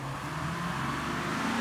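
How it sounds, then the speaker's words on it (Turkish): A car engine runs inside a car showroom at night, a steady low idle hum heard close by for a short moment, with no talking. "kontağı çalıştırabildi"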